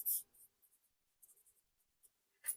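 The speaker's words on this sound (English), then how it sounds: "This is a Paper Studio brush marker, and I just wanted to take this and color in the corner" A Paper Studio brush marker colors in the corner of a planner page, giving faint, close scratchy strokes in short bursts separated by quiet gaps.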